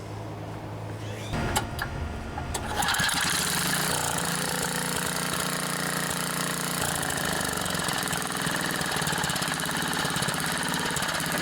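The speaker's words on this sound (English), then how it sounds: "You'll want to get the engine running as slow as possible to adjust the slow speed" Small Craftsman edger engine with a TEC carburetor and a starting fault, catching after a few sharp knocks then settling into a steady, loud, close idle that runs on alone.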